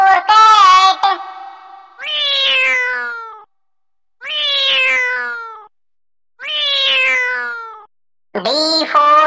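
Three clear, drawn-out cat meows, evenly spaced with silence between, loud and close, framed by brief bright tonal bursts at start and end.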